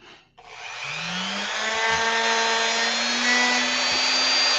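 A Dremel rotary tool grinds into a plastic action figure with a high, rising motor whine and a gritty scraping edge, starting after a short pause and running close and loud for several seconds with no talk.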